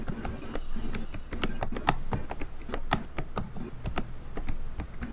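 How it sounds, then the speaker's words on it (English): Hard, fast typing on a computer keyboard, close and loud, with a dense run of sharp key taps and heavier strikes throughout and no talking. "You're tapping so hard on the keyboard"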